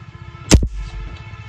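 A single sharp crack from an SDB Sniper v2 airgun fired at a small target, a brief loud pop followed by a short thud of impact, with quiet background around it.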